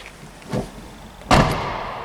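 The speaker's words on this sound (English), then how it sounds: "in order to close the rear door of the Skoda Fabia, you just gently pull this this thing right here and pull it at a gentle pace" Rear door of a 2022 Skoda Fabia pulled shut: a soft movement sound, then a single firm thud as the door closes, loud and near, with no talking.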